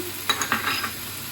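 Boiled sweet corn, broccoli and peas tipped into a sizzling frying pan and stirred, a few quick close scrapes and clinks over a steady hiss of frying, with no talking.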